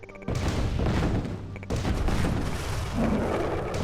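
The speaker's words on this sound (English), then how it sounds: "Bombs away!" Bombers unload in Command & Conquer Tiberian Sun, setting off a dense barrage of heavy booming explosions and rapid blasts that pile up over a few seconds, loud and continuous after a brief quiet start.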